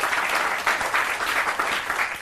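Steady, vigorous clapping from a crowd at a poets' gathering, a thick wash of applause at close range with slight swells, no pause throughout.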